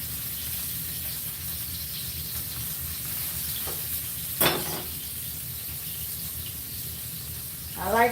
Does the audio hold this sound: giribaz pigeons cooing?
no